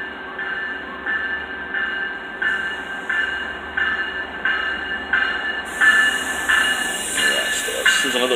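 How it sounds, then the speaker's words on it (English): A Long Island Rail Road train passes close by near fire department activity at the tracks, a rhythmic series of wheel thumps over rail joints with metallic ringing tones building in loudness. "And there's another train behind this one too"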